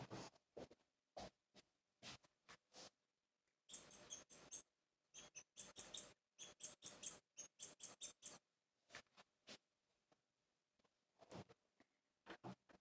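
A thrush sings a string of high, thin, rapid phrases in the middle, faint and fairly distant, with quiet scattered ticks before and after.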